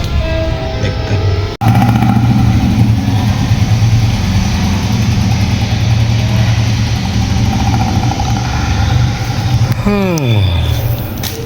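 A car pulls up and settles into a steady close engine idle with a low hum throughout, cut by a sharp break early on and ending in a rising and falling whine-like sweep.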